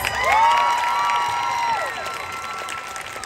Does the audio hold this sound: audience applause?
yes